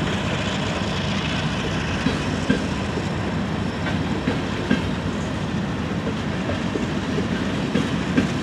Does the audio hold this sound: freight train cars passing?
yes